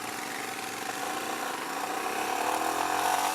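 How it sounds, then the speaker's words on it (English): A Royal Enfield Himalayan motorcycle's engine strains while pulling away from a stop, a steady droning growl under rushing wind noise that swells slightly toward the end. "The engine kind of struggles on takeoff"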